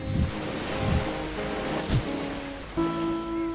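Ocean waves wash onto a sandy beach in repeated soft surges, mixed with steady tonal background music.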